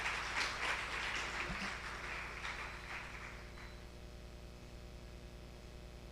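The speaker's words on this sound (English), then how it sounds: "We can give them a round of applause for their commitment," Audience at a community energy conference applauding entrepreneurs, a brief burst of scattered clapping that fades after a few seconds into quiet room hum.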